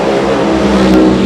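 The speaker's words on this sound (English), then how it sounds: "Revs come up for Kirk Williams." A Firebird-bodied Funny Car drag racer revs at the start line, a loud, steady, dense engine roar that holds throughout with no break.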